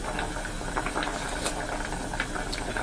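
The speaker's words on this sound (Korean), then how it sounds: "그래서 다진 마늘 넣으면은 조금 끓여줘야 돼요." Korean cucumber stew with minced garlic simmering in a pot, a steady low bubbling and hiss with scattered soft pops and faint clinks throughout, quiet and continuous with no talking.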